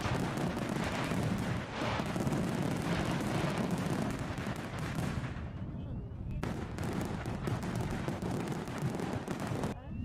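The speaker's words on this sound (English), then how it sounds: "Jonathan, let's do the fireworks first" Fireworks exploding outdoors at a live event, a dense continuous barrage of loud cracks and booms rolling on for the full ten seconds with crowd noise underneath.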